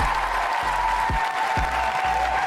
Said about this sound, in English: Can we get a round of applause, Dubtown Rob?